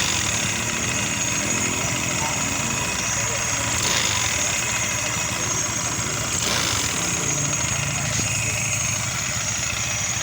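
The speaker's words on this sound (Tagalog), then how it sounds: "hindi pa rin nawala yung tunog na kapag i-accelerate natin, maingay pa rin" A Yamaha Mio MXI 125 scooter engine runs steadily and close, with a harsh, noisy mechanical rattle carried through the whole stretch and brief swells as it is revved.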